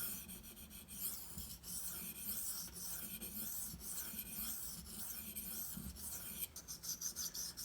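A Benchmade Anthem knife blade rasps across a Shapton Pro sharpening stone in repeated close strokes, each scrape a gritty rub with brief pauses between passes.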